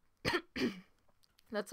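Two short, harsh coughs in quick succession, close to the microphone, followed after a pause by a brief burst of speech.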